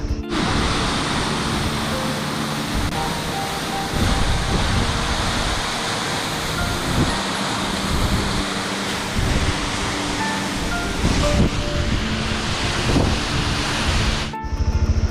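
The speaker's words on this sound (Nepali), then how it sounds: "यो झरना चाहिँ कोप्चे छहरा भन्छ।" Kopche Chhahara waterfall in Myagdi, Nepal, running with only a little water, gives a steady, unbroken rush of broadband water noise that holds evenly from start to finish with no voices.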